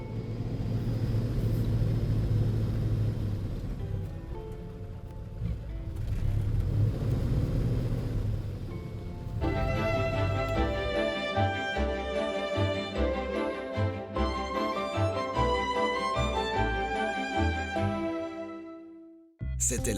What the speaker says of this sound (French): un vieux camion Ford. Je vais essayer de le faire démarrer.